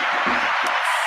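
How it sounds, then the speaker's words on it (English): A studio audience on a live morning show breaks into dense, continuous clapping with cheering mixed in, loud and close, filling the whole brief moment without pause. "you deserve every one of those claps"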